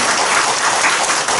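A church congregation applauds in a dense, loud, continuous wash of many clapping hands, with no voices over it.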